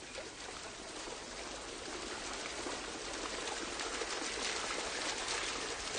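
Water rushing steadily over a dam on the Kaveri River in southern India, a dense broadband roar that holds constant and slightly swells, with no voices.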